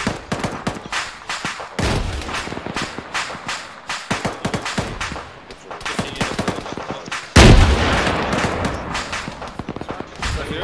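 Gunfire in the military shooter ArmA 3, with repeated sharp shots through the clip and a louder, heavier burst near the middle that keeps echoing afterward.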